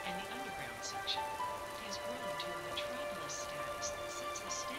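Steady rain from the disaster video game Raw Danger, a continuous soft hiss running beneath people chatting over it.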